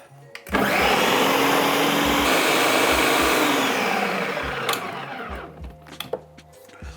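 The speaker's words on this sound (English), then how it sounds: "let's go get this blended" A blender whirs loudly through a thick, creamy cauliflower taco sauce, a steady motor roar running about four seconds before winding down and trailing off into faint clatter as it stops.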